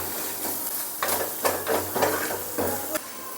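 Chilli and turmeric masala sautéing in a pan, a steady close sizzle and hiss broken by several scraping stirs, with no talk.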